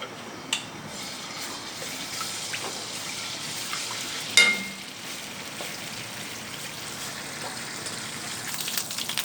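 Chicken frying in a pan with ginger garlic paste added and browned garlic, a faint steady sizzle with a brief stir or clatter partway through.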